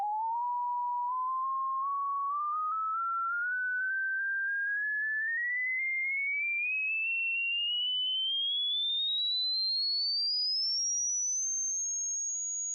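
A steady pure sine tone sweeps upward continuously in pitch, from a mid whistle to a thin high whine, loud and alone.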